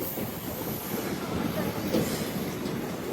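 Passenger train rolling across the Rajahmundry road-cum-rail bridge, a steady close rumble of wagons with faint rhythmic wheel clatter throughout, no voices.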